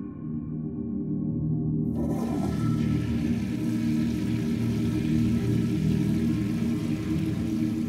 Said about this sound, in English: that toilet would flush in the middle of the night